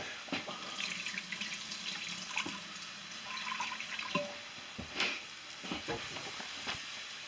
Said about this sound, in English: I'm going to put some water into this Instapot we have here